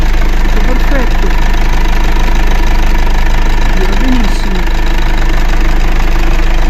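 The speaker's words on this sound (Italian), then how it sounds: "lascio girare il motore un paio di minuti che si scalda l'olio" A Mercedes GLA X156 diesel engine idles steadily while warming its oil after a fuel filter change, with an even, low mechanical throb and faint ticking, loud and close, running continuously.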